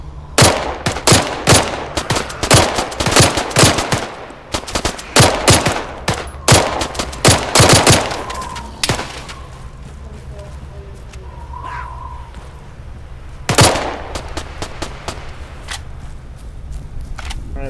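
Rapid bursts of gunfire in the military shooter ARMA 3: loud, sharp shots in quick clusters for the first nine seconds, a lone crack later on, and someone speaking between volleys.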